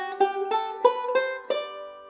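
Bluegrass banjo plays an ascending scale run picked on a single string up the neck, about five bright plucked notes in quick uneven succession, each ringing briefly, solo and close.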